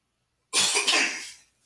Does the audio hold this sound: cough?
yes